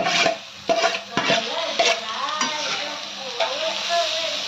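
Onion and green chilies sizzle as they fry in a pan, with a utensil scraping and stirring in quick repeated strokes close by.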